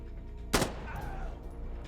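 A single loud gunshot cracks out in the Insurgency: Sandstorm video game, a sharp close report with a brief decaying tail over low steady background hum.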